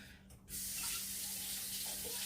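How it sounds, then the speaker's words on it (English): A tap switches on and runs steadily as hands are washed under it, a smooth close hiss of water filling the rest of the moment. "let me wash my hand real quick"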